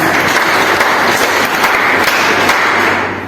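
An audience applauds at a network marketing seminar in Rajasthan: a loud, dense, continuous wash of clapping that holds steady for several seconds, then begins to fade at the end.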